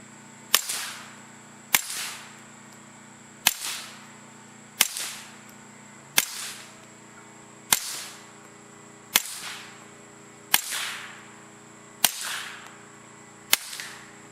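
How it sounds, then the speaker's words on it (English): Nine sharp, loud cracks ring out at a steady pace, about one and a half seconds apart, each with a brief echoing tail. They come from a .22LR rifle fitted with a Griffin Armament Optimus suppressor, firing supersonic Federal Auto Match ammunition. "This is with the suppressor installed with the Federal Auto Match, and this is going to be supersonic ammunition, so you're going to hear that the"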